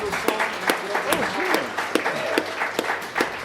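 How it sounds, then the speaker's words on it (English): An audience gives a round of applause for a musician, a scattered patter of claps that carries on steadily for a few seconds and sounds fairly close. "Let's give a round of applause for Dom, please."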